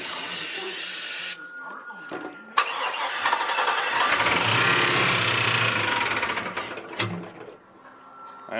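An LS-swapped Chevrolet Suburban turns over with a short crank, then catches and settles into a loud, hissy, steady idle close by. The running engine fades near the end before another brief burst.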